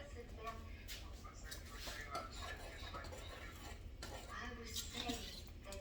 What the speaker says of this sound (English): Let me get a fork and stir it up.